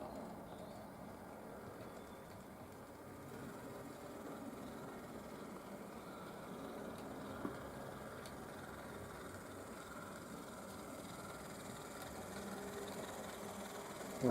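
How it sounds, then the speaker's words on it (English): A small OO gauge model LNER N2 tank engine in BR colours hums and rumbles steadily at low volume for a long stretch, with faint mechanical rattling and no voices. "I'll run a few trains, and you can see some of the tank engines in operation."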